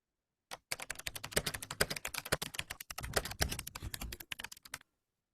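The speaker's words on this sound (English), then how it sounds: "Here, we select computer keyboard." Rapid keyboard typing, a dense run of sharp clicks and key taps, close and continuous, then it stops.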